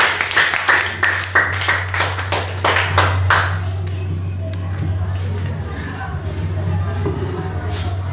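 A church congregation at a worship service in Koumassi claps in a steady, rhythmic beat over a low hum, loud and close for a few seconds, then fades into murmuring voices and crowd noise.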